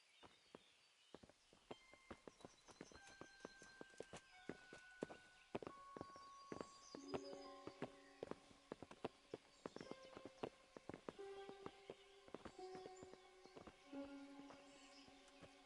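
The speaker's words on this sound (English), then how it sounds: "Bring the horses." Horses' hooves clip-clopping in the medieval video game Kingdom Come: Deliverance, a steady walking rhythm of faint, distinct hoof strikes over quiet melodic background music.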